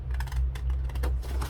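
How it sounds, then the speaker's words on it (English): Card being cut along a score line makes a quick run of crisp, close ticking and scraping strokes, with no talk. "I'm just cutting right up the middle of the score line."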